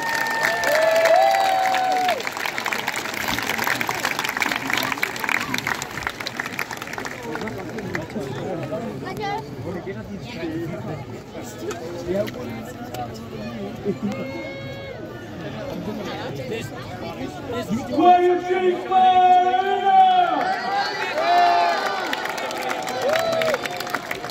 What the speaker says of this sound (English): Give applause, Glover Zanetto!